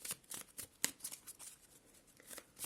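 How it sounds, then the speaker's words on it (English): Quiet papery riffling and soft slaps of large oracle cards being shuffled, in quick irregular bursts with a few sharper snaps. "I'm so, like, not used to shuffling these giant cards."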